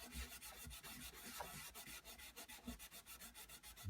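A green scouring pad scrubbing the metal of a Zenith 5R086 radio, quiet close rhythmic rubbing strokes in a steady back-and-forth pattern, roughly three strokes a second, with no talking.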